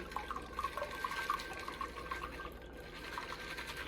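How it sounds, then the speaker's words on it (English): A martini is poured into a glass without ice, a soft continuous liquid trickle with faint splashing that runs throughout, moderately close and without talk. "Then we just pour it. You don't even have to pour over ice."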